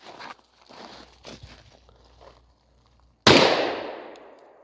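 A single loud, sharp handgun shot fired at a target during concealed-carry training, with a decaying ring after it, preceded by soft shuffling movement and quiet stretches.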